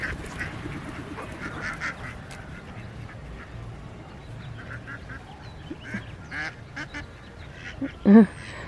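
A few scattered quacks from a duck being chased by three drakes in a busy free-range outdoor setting, with one louder quack near the end over a steady background murmur.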